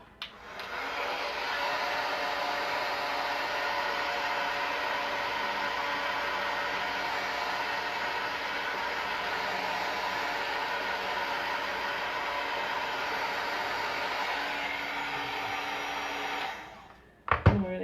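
A hair dryer blowing for paint drying on a craft project, a steady loud whooshing hum that starts abruptly, holds even for about sixteen seconds, then cuts off.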